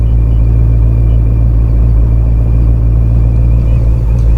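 A Dodge Scat Pack with an F1A94 Procharger and HP90 swap driving slowly into a gas station, a loud, steady low engine rumble heard from inside the car without any talking.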